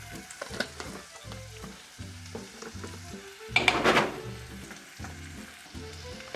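Sri Lankan chili flakes hit a hot pan for a coconut milk curry, setting off a steady close sizzle with stirring scrapes and a louder burst of frying midway.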